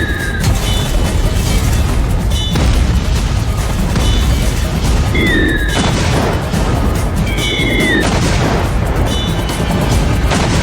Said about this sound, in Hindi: बम गिरे धमाधम।